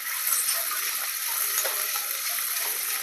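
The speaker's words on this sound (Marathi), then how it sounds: "आता हे आपल्याला परतून घ्यायचं आहे" Curry leaves and spices sauté in oil for a fiery Maharashtrian aamti, a continuous close hiss of sizzling with faint small crackles throughout and no talking.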